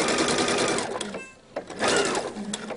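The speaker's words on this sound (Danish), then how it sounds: "Jeg har startet her midt i stroppen og skal nu sy ned over" A sewing machine stitches a strap on a homemade belt bag, a loud, close, rapid whirring that pauses briefly about halfway through and then resumes.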